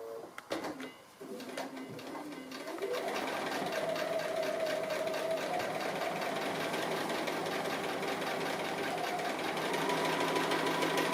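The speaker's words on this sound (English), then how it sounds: "So I'm going to go ahead and free motion stitch, as I said, just sitting on top of the applique." A sewing machine does free-motion stitching over an appliqué quilt top. A few soft knocks come first, then the motor hums up into a fast, steady, close-up mechanical whir of stitching.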